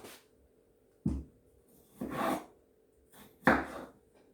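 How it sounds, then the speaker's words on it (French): Peeled potatoes being cut into quarters with a knife on a board, three distinct chopping strokes spaced about a second apart, each a short knock with a brief scraping tail, close and clear with no talk. "Je vais les découper pour les faire cuire. Je les découpe en 4."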